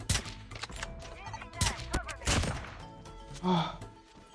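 Call of Duty Mobile gameplay gives several sharp gun bursts and thuds in quick succession, close and punchy, with game effects and a brief tonal sound near the end.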